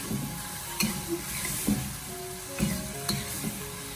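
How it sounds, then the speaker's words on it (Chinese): Eggplant and green beans tossed in a wok with a spatula, a continuous sizzle broken by several scraping, clattering strokes at an even pace, close and moderately loud. "我们给它持续的翻炒1分钟，将所有的食材给它翻炒入味。"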